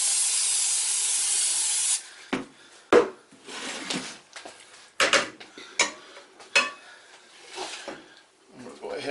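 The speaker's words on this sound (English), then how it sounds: "You want to go ahead and spray your pan." Cooking spray hisses steadily onto a baking pan for about two seconds, followed by clattering pan and utensil handling with some talking.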